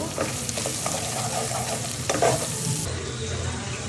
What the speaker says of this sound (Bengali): একটু ভালো করে নাড়িয়ে দেব।